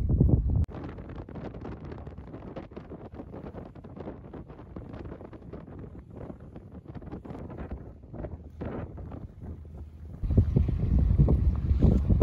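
Sailboat under motor heading into an easterly wind offshore between the Keys and the Bahamas: rough, gusty wind buffeting and water rush throughout, swelling to a louder, denser roar near the end, with no talking.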